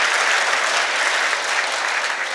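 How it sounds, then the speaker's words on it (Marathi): Loud, sustained audience applause fills a hall at a Yoga for Kids book launch and panel discussion in Pune, a steady dense clapping that holds evenly throughout as the crowd thanks Arjun Hingorani. "आपण जोरदार टाळ्या वाजवू आणि त्याला आभार मानू त्याचा"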